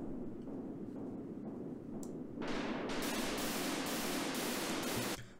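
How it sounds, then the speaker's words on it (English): Synthesized white noise from a synth oscillator plays as a soft hiss at first, then swells into loud, bright bursts that pulse several times before cutting off. "So as you can hear there's a nice clear white noise."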